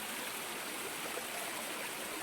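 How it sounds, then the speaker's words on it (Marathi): A stream or waterfall flows steadily at night near a village, giving a continuous broadband rush of water with no breaks, fairly close and moderately loud throughout. "धबधबा आहे"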